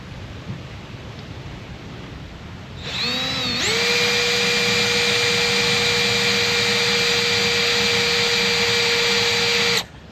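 A drill with a dull bit bores a hole large enough for a Minn Kota trolling motor shaft, spinning up after a brief start and then holding one loud, steady whine until it cuts off abruptly.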